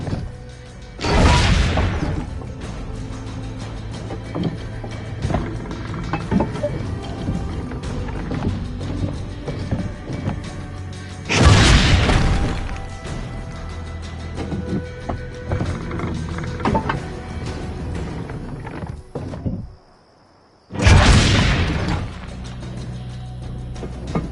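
In Assassin's Creed Brotherhood, three heavy cannon blasts boom at long intervals, each followed by a rumbling, crackling decay, with a brief moment of near silence before the last shot.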